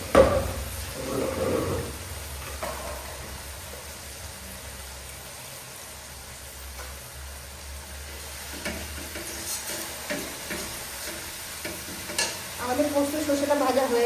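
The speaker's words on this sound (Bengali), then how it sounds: "1 মিনিট একটু ভেজে দেবো।" Mustard and poppy-seed paste fries in a pan for Bengali potato and pointed-gourd curry. A spoon stirs and scrapes it repeatedly, close by, over a low sizzle, with louder scraping at the start and end.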